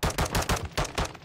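Rapid automatic gunfire in a Call of Duty multiplayer match, a tight burst of about six punchy shots in just over a second, loud and close with nothing else heard.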